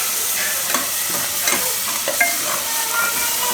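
Onion paste with green coriander and spices cooks in oil for Gujarati dum aloo, giving a steady close sizzle broken by intermittent scraping, clattering stirs.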